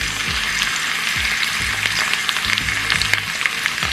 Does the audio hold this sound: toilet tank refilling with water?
no